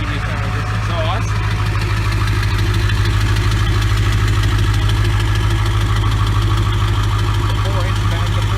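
A truck engine idles steadily up close, its 4-inch exhaust with a 5-inch tip giving a deep, even rumble with a regular low throb throughout.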